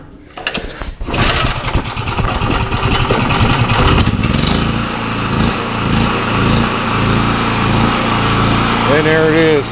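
A small portable generator engine is choked and started, catching after a few pulls and settling into a steady, loud, buzzing run at close range; a voice can be heard briefly near the end.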